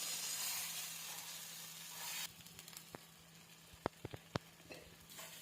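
Methi palak paratha batter spread onto oil on a hot tawa gives a loud, steady sizzle that settles into quieter frying hiss broken by a few sharp spatula taps.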